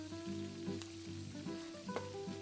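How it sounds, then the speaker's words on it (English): Ground cumin and paprika toasting in a pan, a soft sizzle with stirring scrapes recurring in a loose rhythm, a low steady hum underneath. "I'll stir this around and let the spices toast"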